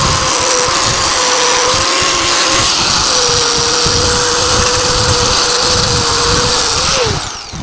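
A power tool grinds rust off a metal frame with a loud, steady whine close by, holding for about seven seconds before winding down at the end.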